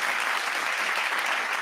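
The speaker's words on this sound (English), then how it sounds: "let's give them a little applause there" A short, even burst of applause from a group of people, a dense and steady patter of many claps that holds at one level throughout.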